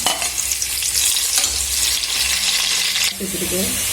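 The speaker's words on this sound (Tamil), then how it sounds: "நம்ம கட் பண்ணி வச்சுருக்க பெரிய வெங்காயத்தை சேர்த்துக்கலாம் சேர்த்து நல்லா வதக்கிக்கலாம்" Chopped onions sauté in hot oil and ghee for a Kerala-style coconut milk pulao, producing a loud, close, continuous sizzle with stirring scrapes and occasional spatula knocks.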